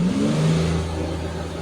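A repaired Ford Explorer engine that had long only cranked without starting now runs, revving up loud and close with a rising then steady drone before easing slightly, with no voices.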